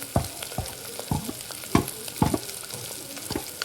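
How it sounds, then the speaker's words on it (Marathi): Mutton with fat and turmeric frying in a pan, a soft sizzle under a series of spaced, distinct scrapes and knocks as a spoon stirs the meat. Nobody speaks. "थोडं त्याला चांगलं फ्राय होऊ देऊ"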